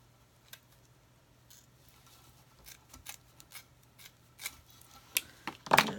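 While a DIY bird feeder is being made, material is cut with scattered, quiet snips and clicks that grow louder and closer together near the end.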